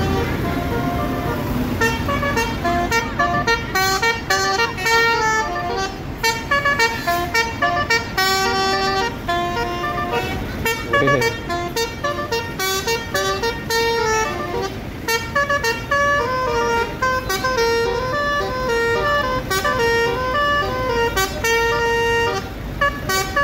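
An old bus at a terminal blasts its roof-mounted basuri trumpet horn, playing a loud, continuous run of melodic toots that repeat and shift in pitch for over twenty seconds.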